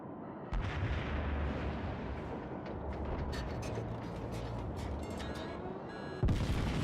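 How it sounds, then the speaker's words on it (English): A 356mm shell fires from a US battleship in the World of Warships naval combat game, a deep booming blast over constant engine and sea rumble, followed by a second sharp report near the end. "I take aim and fire a 356mm shell through the Aoba-class cruiser"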